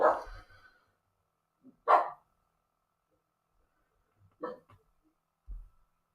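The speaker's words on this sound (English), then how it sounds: "Dogs are barking at something." Dogs bark outdoors at night in a few short, separate bursts, one loud near woof followed by scattered fainter barks with quiet gaps between them.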